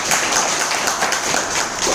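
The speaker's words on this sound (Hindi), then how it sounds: "सर के लिए एक जोरदार तालियां।" Audience applause for a guest at an indoor business gathering: a short burst of clapping, fairly close and moderately loud, continuing steadily for a couple of seconds.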